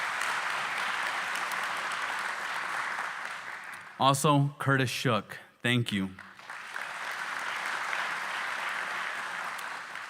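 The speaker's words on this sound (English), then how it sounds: "let's give him a round of applause of a thank you" An audience claps steadily at the groundbreaking ceremony for the new Douglas, Arizona commercial port of entry. The full, even applause fades out as a speaker briefly talks, then returns just as strongly.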